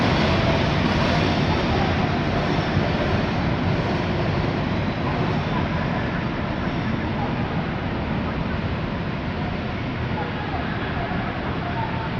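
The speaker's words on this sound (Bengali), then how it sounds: "সুন্দরভাবে চট্টগ্রামের উদ্দেশ্যে মালবাহী ট্রেন ঢাকা থেকে বের হয়ে যাচ্ছে" A freight train leaving Dhaka for Chittagong rumbles past as a continuous loud, broadband roar with a steady low-end drone, close to the microphone and unbroken for the whole stretch.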